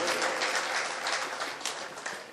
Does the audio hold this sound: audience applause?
yes